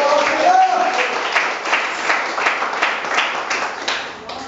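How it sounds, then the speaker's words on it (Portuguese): A church congregation claps hands together in worship, a steady dense patter of many hands at moderate loudness, with voices mixed in beneath. "nós vamos iniciar adorando o nosso Senhor Jesus com nossas palmas"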